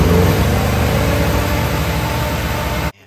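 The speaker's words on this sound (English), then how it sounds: "It sounds like a diesel." A mini truck engine idles close by with a loud, rough, clattering drone that sounds like a diesel. It runs steadily, then cuts off abruptly near the end.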